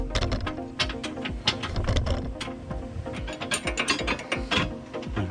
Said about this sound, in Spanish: En este caso llave 18 vamos a usar para empezar a apretar.